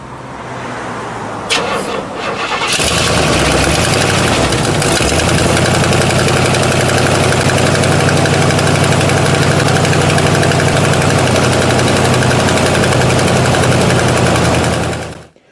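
A 1967 Buick Riviera's 7-liter V8 cranks briefly after a jump start, catches, and settles into a loud, steady close-up idle that runs for several seconds before cutting off abruptly at the end.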